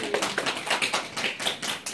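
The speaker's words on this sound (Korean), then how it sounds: "예, 우리 박수. 예, 박수." An audience at a church camp sermon gives brief, close, dense clapping that patters unevenly for a couple of seconds.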